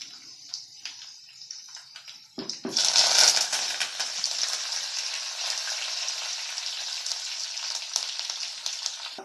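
Onion and curry leaves frying in oil as a tempering for Nellore-style fish curry: a quiet start with a few clinks, then a sudden loud sizzle that holds strong and close until the end.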